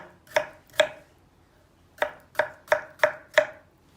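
A knife chops potatoes into cubes on a cutting board: two quick cuts, a pause, then five steady, evenly spaced chops, close and crisp.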